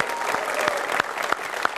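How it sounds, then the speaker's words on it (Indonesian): Dense, steady applause fills the room as an audience claps for Indonesian football at a live talk event, a continuous wash of many hands with a few sharper individual claps standing out. "Tepuk tangan dulu untuk sepak bola Indonesia."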